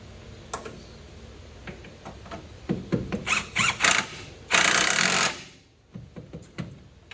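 Bauer ratchet tightening bolts on a Mack truck radiator bracket, with quick rhythmic clicking in short bursts and a louder sustained ratcheting run near the end, close up in a workshop with no talk.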